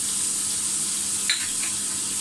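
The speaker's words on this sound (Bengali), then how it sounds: "এবার আমি চিংড়িগুলো আস্তে আস্তে তেলে দিয়ে দেবো।" Prawns frying in hot oil in a pan, a steady bright sizzle with a brief spatter and scrape partway through, close and without talk.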